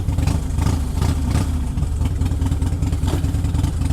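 A Harley-Davidson Softail with an 88 Twin Cam and a Freedom Performance exhaust idles close by, a deep, loping rumble of uneven pulses running steadily throughout.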